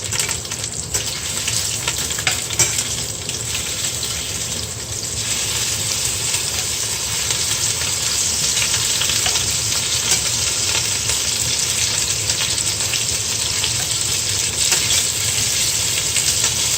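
Sinigang ingredients fry and brown in a pan, a loud continuous sizzle with crackling hiss and occasional stirring scrapes running steadily throughout.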